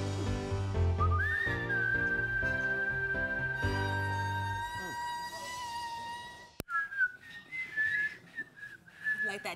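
A person whistles a sustained, wavering tone over background music with steady chords, then the music cuts out and short whistled notes continue alone.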